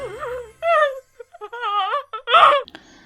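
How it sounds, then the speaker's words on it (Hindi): Eerie crying wail, a high wavering female-sounding moan broken into several sobbing phrases with short gaps, loud and close, ending in a sharper strained cry. "फिर से रोने की आवाज़ सुनाई देने लगी"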